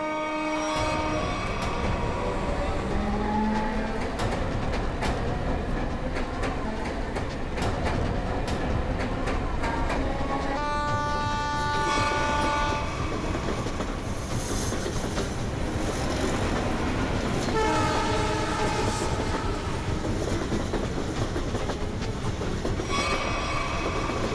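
A train rolls past steadily and loudly for the whole stretch, with a continuous rumble and rattling wagons, and occasional horn-like tones cutting through the noise.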